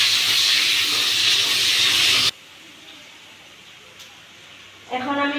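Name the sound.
onions frying in hot oil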